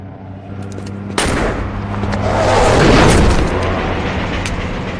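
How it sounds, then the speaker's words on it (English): A loud explosion erupts in a Saints Row video game cutscene, a sudden blast after a low rumbling lead-in, then a broad roaring swell that peaks and slowly decays, with no talk over it. "That was a hell of an explosion."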